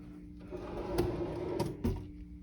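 Thin desk drawer in a hotel room sliding open or shut, a short scraping rattle with a couple of sharp knocks, heard close up over quiet room tone.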